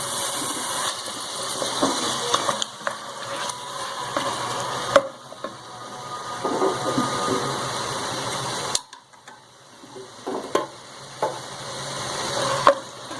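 Ginger-garlic paste sautés in a pan for chana dal gosht, a continuous soft frying hiss with occasional small pops and faint clinks, close by.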